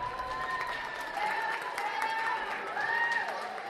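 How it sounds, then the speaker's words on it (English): Audience at a school talent show claps and cheers in a steady crowd applause, with shouts and whistles rising above the clapping throughout. "Let's give another round of applause to him."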